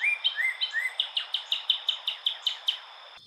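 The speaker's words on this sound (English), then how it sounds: "this cardinal from Arizona also has a higher pitched song than the ones I'm used to hearing in Kentucky" A northern cardinal from Arizona sings a clear, high-pitched song, a rapid series of about a dozen repeated slurred whistles, close and alone with no background noise.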